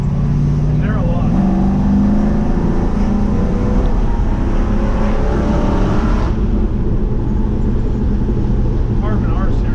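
LS-swapped 1966 Chevrolet C10 with a Carven exhaust, driving with a loud, steady engine drone and rumble close up, the tone shifting slightly partway through.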